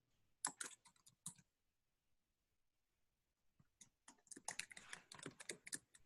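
Quick bursts of computer keyboard typing, close and crisp, come in a short run early on, then a gap, then a longer flurry of keystrokes.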